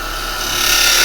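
A carbide lathe tool cuts into spinning Zebrano wood, a close, continuous hissing shear that grows slightly louder over one brief second.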